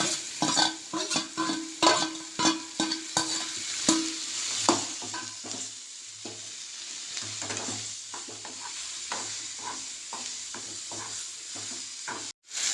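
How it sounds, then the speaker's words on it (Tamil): Curry leaves and okra sautéing in a pan for tamarind curry, with a spoon stirring and scraping in quick clinks over a steady close sizzle. "கருவேப்பிலை போட்டு வதக்கிட்டு போட்டு வெண்டைக்காய் போடுவேன்"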